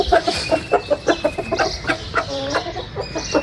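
Chickens cluck in quick, repeated bursts close by, a busy farmyard chatter of several birds running through the whole stretch.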